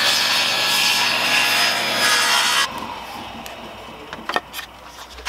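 A saw rips a wooden board lengthwise into a narrow strip for a pegboard French cleat. The cutting is loud and continuous for about two and a half seconds, then stops, and a few faint knocks and handling sounds follow.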